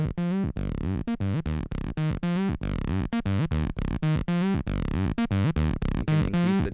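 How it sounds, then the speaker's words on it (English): A Behringer TD-3 synthesizer plays a gritty, distorted pattern pulsing in short repeated notes with a bouncy rhythm, loud and upfront with no voices. "We can turn on distortion"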